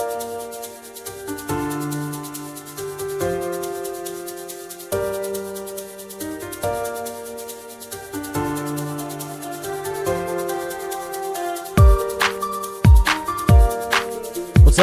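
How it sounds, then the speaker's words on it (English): Verse section of a home-produced electronic beat with kick and claps over sustained synth chords, fairly loud and steady; deep kick hits land near the end as the claps build. "so that'll make the the verse section sound like this"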